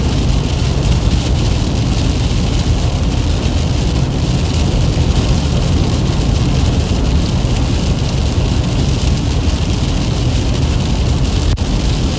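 Heavy rain pounds down during a storm chase amid a tornado threat in Michigan, Indiana and Ohio, a loud, unbroken wash of drumming drops on a vehicle that continues from start to finish.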